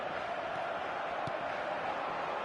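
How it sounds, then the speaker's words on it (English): A steady, low crowd roar from a football stadium in the eFootball video game, a continuous broadband murmur without clear cheers or distinct voices. "the crowd have tried to spark some excitement, but to no avail"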